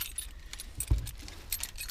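Car keys jangle briefly near the close mic during an explanation of a locking cubby box, with a sharp metallic rattle and thump at about one second amid quiet clinking.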